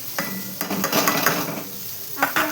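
Finely chopped green chilies hit hot oil for egg bhurji, giving a close sizzle with spoon-and-pan clinks and stirring scrapes in short bursts.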